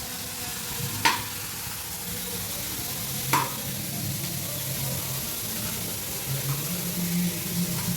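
Onions sautéing in a pan hiss with a soft, steady sizzle, broken by two sharp clinks of a utensil against the pan as they are stirred, with no voices.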